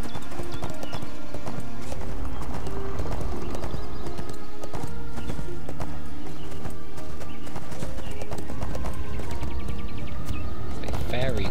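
Steady clip-clop of a horse mount's hooves in the online game ArcheAge, with a neigh heard once, playing under game music and someone talking.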